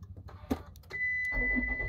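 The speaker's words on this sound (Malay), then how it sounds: "So kita cuba start kereta." A 2021 Perodua Myvi, started with a newly cut key, cranks and catches near the microphone after a few clicks, then settles into a steady idle with a high whine.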